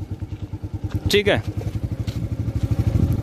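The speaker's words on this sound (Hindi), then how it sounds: "यहाँ पे देखिए आपका बाइक अपने आप चलना शुरू हो जाएगा।" Yamaha FZ motorcycle idling and starting to creep forward on its own, a steady, pulsing low engine thump close by, with a brief spoken word over it.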